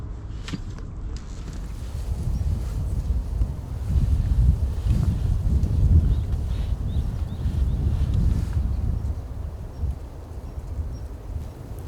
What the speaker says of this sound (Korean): 춥네 바람 부니까